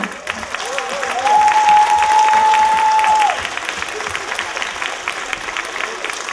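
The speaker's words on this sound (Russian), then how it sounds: "Аплодисменты вам, друзья!" A concert audience applauds loudly and steadily after thanks from the organizer of the concert "На встречу мечте". A sustained pitched tone runs over the middle of the clapping, and the ovation eases slightly toward the end.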